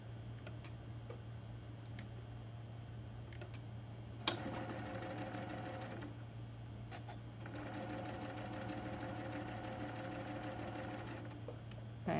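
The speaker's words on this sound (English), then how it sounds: "I'm going to sew those to the bottom" A sewing machine stitches quilt block pieces together with a scant quarter-inch seam, its rapid mechanical chatter running in several bursts, short ones first and then longer runs, separated by brief pauses, close and clear with no talk.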